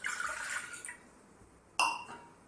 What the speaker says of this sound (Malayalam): നമുക്ക് ഒരു ഗ്ലാസ് വെള്ളം ഒഴിച്ചു കൊടുക്കാം